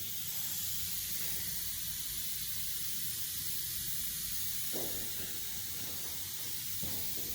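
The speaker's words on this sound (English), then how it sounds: "We're gonna show you how we're going to apply the lacquer as well" Spray gun applying lacquer to a Nissan Skyline R34, a steady close hiss running throughout with brief interruptions where the trigger is released.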